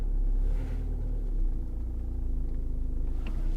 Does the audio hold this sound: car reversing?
yes